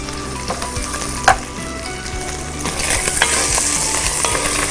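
Rice sautéing in a hot pan with caramelized onions, a steady close sizzle broken by the scrape and clatter of stirring, with one sharp knock partway through and no talking.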